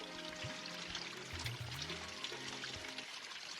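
Water pouring from a disposable plastic container for drinking during a mountain hike in Neelum Valley, a soft continuous splashing trickle with a few gurgles that cuts off near the end.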